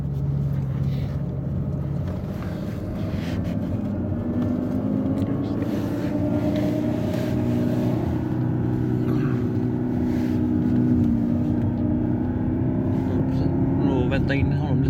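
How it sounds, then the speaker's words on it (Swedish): BMW M6 Coupe and Porsche 911 Turbo S (997) PDK racing from a 50 km/h rolling start, with a steady loud engine drone throughout and people talking over it. "Testrunda M6 mot Porsche Turbo PDK."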